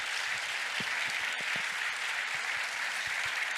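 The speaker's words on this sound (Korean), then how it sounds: "우리 힘찬 박수로 우리 주강사이신 목사님을" An audience claps steadily in a conference hall to welcome the main speaker, a sustained, even wash of applause with a few louder individual claps standing out.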